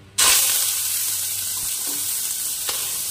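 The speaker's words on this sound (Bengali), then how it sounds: "দিয়ে প্রথমেই চিংড়ি মাছটাকে ভেজে নিতে হবে।" Shrimp hit hot mustard oil in a wok with a sudden loud sizzle that settles into a steady, hissing fry, with a couple of faint clinks and stirring sounds partway through.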